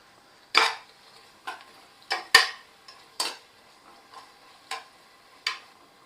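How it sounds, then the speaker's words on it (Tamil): Sliced onions with a pinch of salt are stirred in a pan for mutton biryani, giving about eight sharp, separate scrapes and clinks of the utensil against the metal, spaced roughly a second apart over near-silence, with no voices. "இந்த வெங்காயத்தை வதக்க ஆரம்பிச்சிடலாம்"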